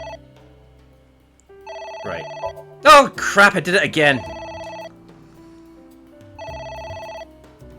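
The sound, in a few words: telephone ringing in video game A.I.: The Somnium Files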